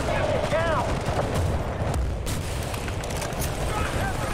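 Artillery fire in Battlefield: Bad Company, heard as a dense barrage of booms and gunfire rumbling continuously and loudly, with brief whistling sounds at the start.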